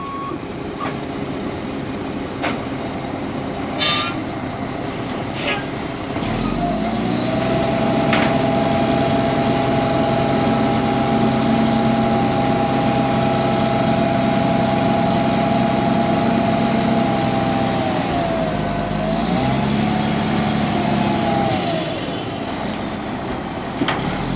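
A large off-road dump truck rumbles steadily as it compacts fill on a site, engine note rising from about six seconds in and holding loud and constant, with a brief dip and a shift in pitch near twenty seconds.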